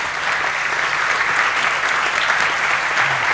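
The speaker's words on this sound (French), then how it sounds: "ces applaudissements disent tout" Audience applause for the governor of the Central Bank of Congo, André Wameso, at a school event with pupils: steady, dense clapping from a crowd filling the whole short stretch at an even loudness.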